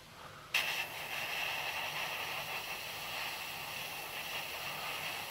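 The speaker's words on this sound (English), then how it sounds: "And check the spray on your finger." A paint sprayer sprays thinned SMS chalk-style paint in olive and duck egg green: after a moment of quiet, a steady close hiss starts abruptly and holds evenly to the end, with no talking.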